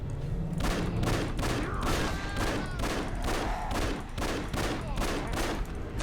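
Dense, continuous gunfire from the shooter video game Afterfall InSanity, a steady barrage of loud overlapping shots throughout with no pauses.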